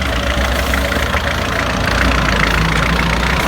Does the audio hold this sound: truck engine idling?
yes